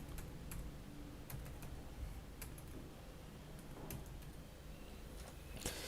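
Scattered keystrokes on a computer keyboard as text is entered into a PowerPoint text box, irregular taps spread across several seconds, quiet and close with no talking.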